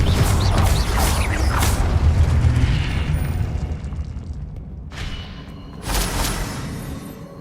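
Confringo fire spell in Hogwarts Legacy erupting into a deep rumbling explosion that slowly decays, followed by a second smaller blast with crackling debris, loud and close without speech.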